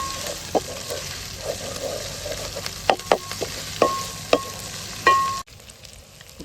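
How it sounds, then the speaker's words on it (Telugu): Onion paste and green chillies fry in a pan with a steady sizzle and repeated sharp scrapes and knocks of a spatula, then drop abruptly to quiet near the end. "ఆనియన్ పేస్ట్, పచ్చిమిర్చి ఇవన్నీ బాగా వేగితే మనకు మంచి టేస్ట్ వస్తుంది ఇక్కడే"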